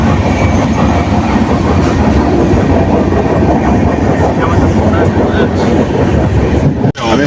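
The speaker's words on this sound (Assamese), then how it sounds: "বাকীখিনি ট্ৰেইন অহাৰ পিছত কম" A train pulls into Kamakhya railway station with a loud, steady rumble and rhythmic wheel clatter over the rails, running continuously before cutting off abruptly near the end.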